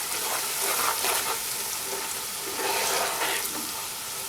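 Spices sizzle and fry in a pan for murgh cholay while being stirred, a steady close hiss with soft scraping swells throughout.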